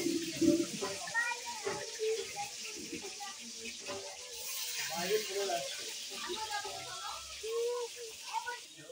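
Eggplant slices fry in a pan at a home gathering during a Kali Puja visit, giving off a steady, soft sizzle. Several people, including a child, talk over it.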